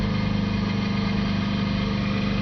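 A Subaru Forester 2.0 diesel engine with a blocked particulate filter drones steadily at raised revs around 3000 RPM, a constant close hum with a rough vibrating texture and no changes in pitch.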